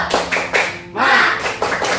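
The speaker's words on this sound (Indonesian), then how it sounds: "Tepuk semangat." Classroom pupils perform a rhythmic spirit clap: short bursts of clapping in a patterned beat, broken by a group shout, then more clapping.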